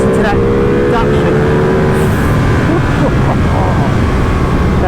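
A Ducati Panigale V2 big V-twin engine revs loudly and close, its droning note climbing and shifting amid heavy wind roar as the bike pulls away.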